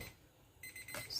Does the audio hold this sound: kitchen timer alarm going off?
yes